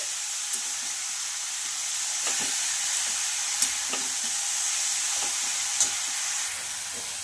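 Grated carrot stir-fried in a pan for a sweet dish, a steady sizzle with soft hiss and occasional scraping clicks of the spoon against the pan, close and continuous with no talking.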